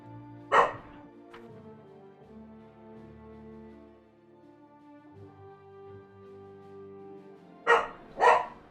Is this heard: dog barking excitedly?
yes